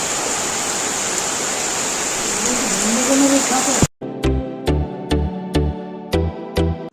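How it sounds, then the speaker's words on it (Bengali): Heavy rain pours outside during a Bengali daily vlog, a loud, steady rushing wash of water for about four seconds, followed by a different, clipped section with rhythmic tonal beats. "এই দেখো পুরো একদম সেই লেভেলের বৃষ্টি শুরু হয়ে গেল"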